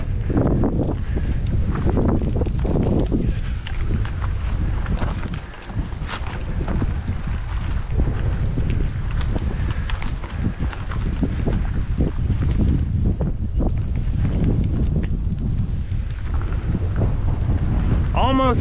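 Strong wind buffeting the microphone on a windy spring gravel bicycle ride near Gainesville, Texas: continuous, loud, low rumbling gusts for the whole stretch, with a brief lull partway through.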